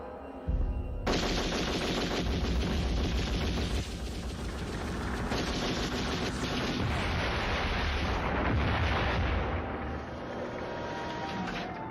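Dense gunfire and explosion special effects for an X-Files television episode: loud, continuous bursts of rapid shots and blasts filling nearly twelve seconds, with a brief drop in intensity midway and no talking.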